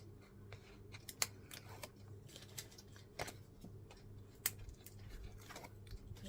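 Scissors snip through paper for a handmade card, making soft, close, irregular cuts with occasional sharper clicks of the blades. The sound is quiet throughout, with no talking.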